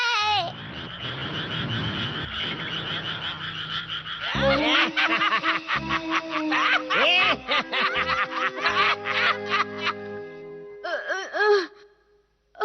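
Animated cartoon frogs croak in a burst of bouncy, springy calls mixed with snickering, chuckling sounds, loud and close, with a short gap of silence before a final croak.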